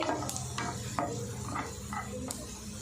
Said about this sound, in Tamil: லோ ஃப்ளேம்லேயே பார்த்தீங்கன்னா நல்லா வதக்கிட்டுருக்கேன்.